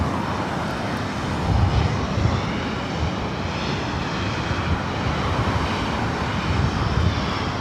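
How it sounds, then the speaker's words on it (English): Brand-new United Boeing 737 MAX 8 arriving at LAX from SFO, a steady broadband jet rumble and hiss at moderate distance, fairly even with slight swells, no talking. "We got that brand new 737 MAX 8 with United, flight 1413, coming in from SFO."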